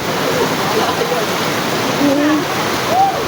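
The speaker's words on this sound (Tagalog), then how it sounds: "Lumakas na ang ulan." Heavy rain pours down in a steady, dense roar in Quezon City, Philippines, with faint voices now and then beneath the downpour.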